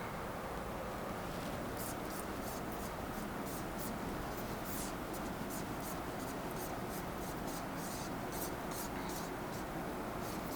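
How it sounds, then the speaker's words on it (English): Erasing writing on a board during an English test prep lesson, a run of quick rhythmic rubbing swipes over a low steady room hiss, close and fairly faint. "just allow me to erase this one."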